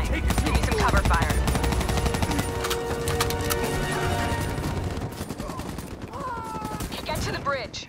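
Cover fire in the video game Call of Duty Black Ops 3, dense overlapping machine-gun bursts and shots near and loud for the first several seconds, then thinning out as voices and radio chatter take over.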